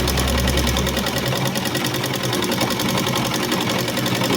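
A sewing machine stitches a chudi top, its fast, steady rattling hum running continuously and close up from start to finish with no talking.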